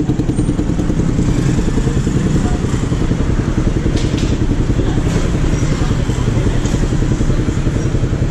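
A Yamaha Sniper motorcycle fitted with an Akrapovic exhaust idles up close with a loud, steady, rapid burble that holds constant throughout.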